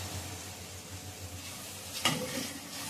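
Curry leaves sizzle and crackle in hot oil in a pan for a Marathi gavar dhokali dish, a steady close frying hiss with low rumble and a sharper spit or pop near the end; no talking.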